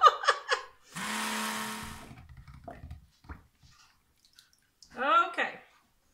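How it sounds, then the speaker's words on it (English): A faulty electric blender mixing cold process soap whirs briefly and unevenly, sputtering out after about a second, with a voice speaking before and after. "my blender is not working very well"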